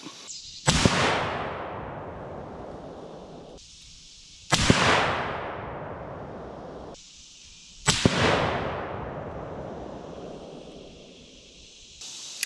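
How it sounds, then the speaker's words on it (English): Three loud, sharp .300 Win Mag rifle shots fired with Core-Lok ammunition for a group, spaced a few seconds apart, each crack followed by a long fading echo across open ground. "So let's get to it with our first 3-shot group."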